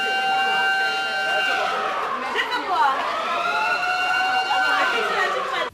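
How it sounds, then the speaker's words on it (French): A loud wailing siren signalling the end of an exam rises and falls continuously, with the murmur of a crowd of voices underneath. "la sirène annonce la fin de l'épreuve."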